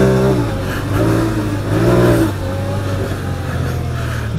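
Honda Pioneer 1000 UTV engine held at higher revs in automatic sport mode, a loud steady droning hum with rising and falling pitch sweeps, close and continuous with no talk.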